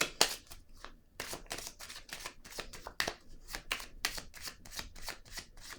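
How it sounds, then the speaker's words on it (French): Tarot-style cards are handled and laid down during a card reading, a close, quiet series of crisp papery slaps and flicks in an uneven rhythm with no voices. "Je vais déposer une autre carte."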